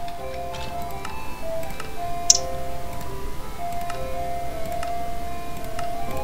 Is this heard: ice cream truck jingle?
yes